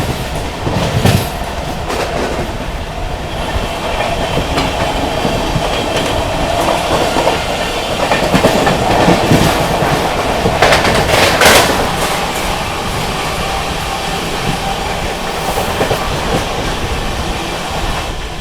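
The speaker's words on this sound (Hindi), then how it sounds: "और अब अपनी क्रॉसिंग होने जा रही है न्यू दिल्ली डिब्रूगढ़ टाउन राजधानी एक्सप्रेस के साथ" The New Delhi–Dibrugarh Town Rajdhani Express thunders past on a crossing, a loud, steady rail roar with rhythmic clickety-clack of wheels over joints lasting throughout, with no voices.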